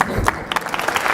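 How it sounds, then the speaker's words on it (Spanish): Audience applause at a talk honoring a speaker, a dense patter of hands clapping close by with a few sharper claps standing out, brief and steady throughout. "El aplauso es para Mari Carmen."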